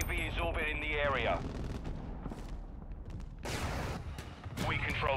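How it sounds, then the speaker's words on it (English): Airstrike explosions in the video game Call of Duty Ground War, heavy booming blasts and crackling gunfire rumbling in a battlefield mix, with a radio-style voice talking over the start and end. "Friendly airstrike in the AO."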